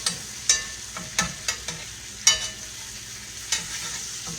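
Flour being stirred into hamburger grease in a frying pan, with a utensil scraping the pan in short, irregular strokes over a soft sizzle, close and moderately loud, with no talking.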